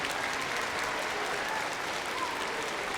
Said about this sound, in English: Give them a little clap.